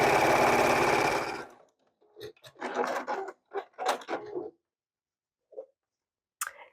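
Sewing machine stitching a sage-themed quilt block, one long steady run of stitching that stops, followed by several short, separate bursts and brief clicks with quiet gaps between them.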